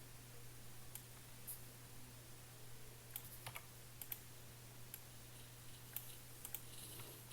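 Typing on a computer keyboard, faint scattered key clicks in short bursts over a steady low hum, quiet and close, with no talking.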